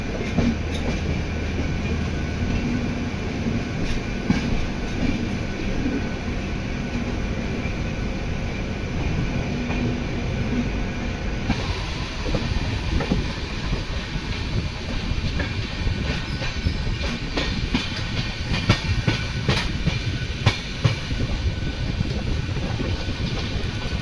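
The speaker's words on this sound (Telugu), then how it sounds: "కొచ్చువేలు ట్రైన్ ఇక్కడ ఉంది." A Kochuveli-bound train at a station, with a continuous loud rail rumble and faint clicking of wheels over track, steady throughout with a shift in tone midway and no voices.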